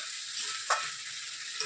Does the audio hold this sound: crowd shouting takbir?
no